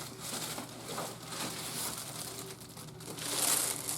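Crinkling and rustling of plastic and packaging material as a Singer Quantum Stylist 9960 sewing machine is unpacked, steady and close, with a brief sharper crackle near the end.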